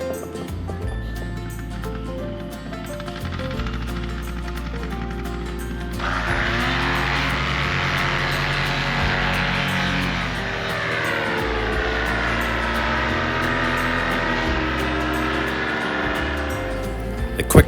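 A powered paraglider's small propeller engine drones steadily overhead, its pitch shifting and rising as it passes, loud and continuous with no one talking.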